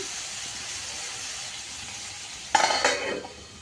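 Chopped onions and tempering spices fry in oil, starting as a steady, faint hiss. Partway through, a louder sizzling surge and stirring burst in close by, then fade back down.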